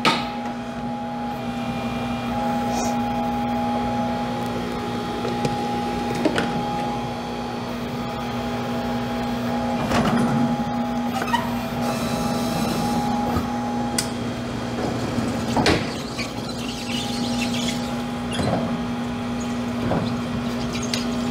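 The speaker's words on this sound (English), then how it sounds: "the advantage of this type of bead breaking machine is it does not damage the inside part of the rim when it's breaking the beads" A tire changer's bead breaker demounts a wheel in a wheel refinishing shop, a steady mechanical hum and whine with a constant tonal drone, broken by occasional clunks and knocks as both top and bottom beads are pushed free.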